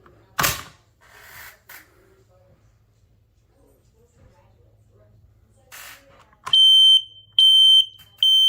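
A smoke detector sounds during a test after some handling noises, then starts loud, shrill electronic beeps in bursts near the end, preceded by quiet clicks and rustling.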